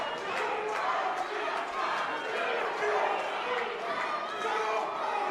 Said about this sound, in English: Crowd's chanting for the Iceman